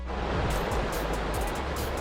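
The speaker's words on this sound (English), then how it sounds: "Get you a little bit of waterfall action in here, you know. Maybe a little stream." Small waterfall on the Moormans River in Virginia, a steady close rush of falling water with a dense, constant broadband roar and no voices.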